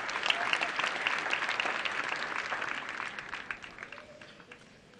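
Audience at a Daystar University graduation ceremony applauds loudly in a dense, continuous burst of clapping that gradually thins and fades over several seconds, with faint voices underneath.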